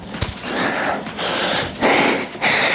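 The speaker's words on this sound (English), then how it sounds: "Breathing really heavy" Heavy, ragged breathing after a set of kettlebell swings: three or four loud, close gasping bursts with short breaks between, breathy and rough, no speech over them.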